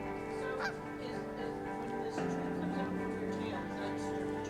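A goose-like bird gives a few loud honks, one stretched and falling in pitch, over a steady background hum.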